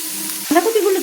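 Chopped cabbage for vegetable chowmein drops into a hot pan, a steady sizzling hiss that flares into a sharper, louder crackle halfway through as the cabbage hits the oil.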